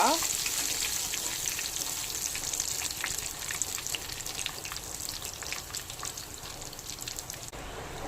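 Sardines coated in semolina, Mangalore-style rava fry, sizzle in hot oil with a steady, close, crackling hiss and scattered pops that continue unbroken throughout, with no talking.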